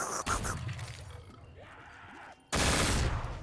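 A sniper shotgun fires in a video game, with two heavy blasts, one at the very start and a longer, louder one near the end, separated by quieter game ambience.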